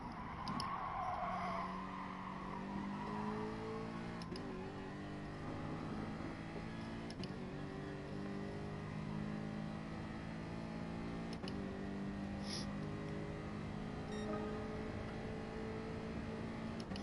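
Racing car engine in a racing video game, a steady droning tone that shifts pitch as the car brakes and turns in, with faint tyre noise and brief clicks throughout.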